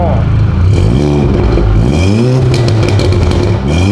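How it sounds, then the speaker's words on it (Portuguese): A Volkswagen Jetta with a sport exhaust revs up and down loudly and close by, its deep throaty exhaust rising and falling over a few seconds. "Eu vou acelerando pra ver se o ronco tá bom"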